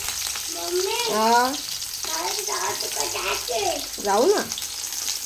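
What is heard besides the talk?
onion frying in a pan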